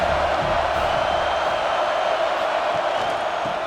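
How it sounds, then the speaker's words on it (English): A stadium crowd in EA College Football 26, at a Kentucky at Auburn game, keeps up a loud, steady roar of cheering, a thick constant wash of noise with no letup. "This crowd going to try to make life miserable for these guys"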